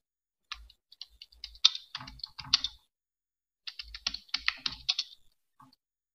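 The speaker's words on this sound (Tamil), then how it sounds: "கீபோர்ட் லேஅவுட் வந்துட்டு டைப்பிங் இன்ஸ்டியூட்டில் இருக்க மாதிரி தான் டைப் பண்ணுறேன்." A computer keyboard is typed on in Tamil with a typewriter-style layout, producing two quick bursts of close, clicky keystrokes separated by a short pause.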